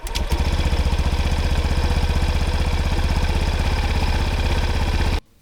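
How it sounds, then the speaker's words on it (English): A Honda Vision 110cc scooter engine idles steadily and loudly with a fast, even putter for about five seconds, then cuts off abruptly. "then I let the engine idle for another 5 minutes"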